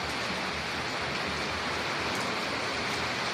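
Heavy rain pours steadily near a riverbank in a dense, continuous hiss with no pauses, loud and close throughout.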